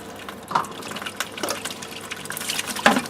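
Water runs into a bucket for mixing tomato nutrients with Epsom salts, a soft splashing trickle marked by a few brighter drips and gurgles.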